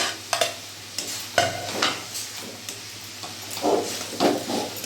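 Fried potatoes are stirred into a sizzling fig curry in a pan, with a steady sizzle under repeated sharp scrapes and knocks of the spoon and a low hum beneath.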